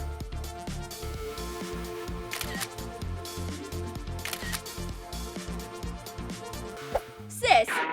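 A camera shutter clicks once near the end as a sparkly glitter selfie is taken, a brief sharp snap over steady background music.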